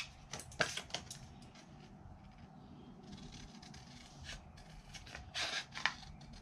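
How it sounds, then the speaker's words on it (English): Scissors trim paper for a craft project in a few quiet, close snips with soft paper rustling and handling sounds in between. "So I'm going to take my scissors and just trim."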